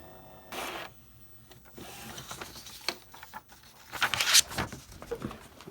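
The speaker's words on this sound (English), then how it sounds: "And this is a secondary printer. And we'll do a color copy." A secondary inkjet printer running a color copy, with mechanical whirs, clicks and a carriage pass building to a brief loud burst near the end, close by and alone.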